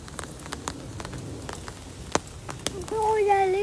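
Rain falls outdoors as a soft, steady patter with scattered sharper drop hits, then a rising whistle-like tone comes in near the end.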